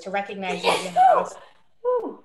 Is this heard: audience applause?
no